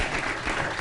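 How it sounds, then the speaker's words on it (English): A crowd applauds during a talk radio broadcast, giving a dense, steady wash of clapping that holds at an even level throughout without pauses. "why is the crowd applauding that?"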